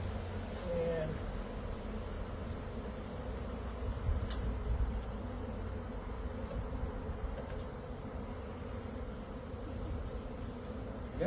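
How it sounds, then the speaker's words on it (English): A dense, steady hum of package honey bees buzzing around their hive goes on unbroken at moderate volume, with occasional faint clicks and small sounds mixed in. "a lot of buzzing"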